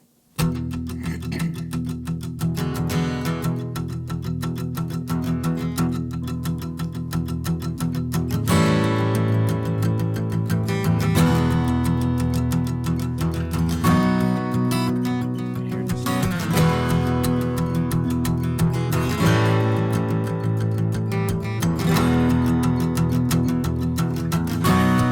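A raw live take of acoustic guitar and vocal plays continuously, with steady strummed chords and sustained singing at an even loudness. It grows slightly fuller partway through and runs without interruption.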